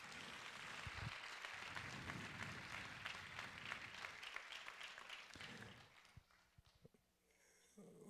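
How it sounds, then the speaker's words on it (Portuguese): A church congregation claps together in a sustained, dense round of applause that tapers off after several seconds into scattered claps and quiet room noise. "Dá uma salva de palmas para esse crente do seu lado aí."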